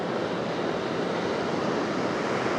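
Ocean waves breaking on a Costa Rica beach make a steady, unbroken roar of surf that fills the whole stretch, with no voices over it.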